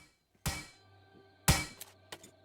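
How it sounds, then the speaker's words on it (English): A hammer strikes scrap metal on a car in the survival game Plains of Pain, two sharp ringing clanks about a second apart followed by smaller metallic clinks, close and clear with no talk. "you can break off scrap metal from these cars and other things too"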